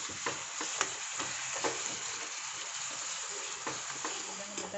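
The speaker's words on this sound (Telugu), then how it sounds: "మనం ఇలా కలుపుతూ ఉండాలండి పాలకూరని" Spinach leaves stirred with a ladle in a frying pan while cooking Telugu-style palakura pappu, a steady sizzle with repeated scraping strokes, close and moderately loud, no talk.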